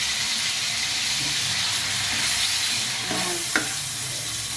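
Shrimp sizzle and splatter in a hot pan with browned garlic, a steady broadband frying hiss throughout with a sharp pop of spattering oil near the end.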